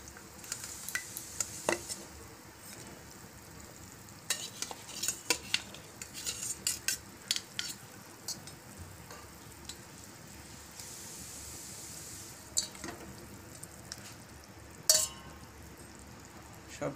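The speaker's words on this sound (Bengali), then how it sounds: "এবার এটার মধ্যে, টকের মধ্যে এবার মাছগুলো দিয়ে দেব। সবগুলো মাছ দিয়ে দিচ্ছি।" Tilapia pieces go into a boiling sour curry made with chalta (elephant apple), with scattered clinks and scrapes of utensils against the pot over a soft simmering bubble. No one speaks.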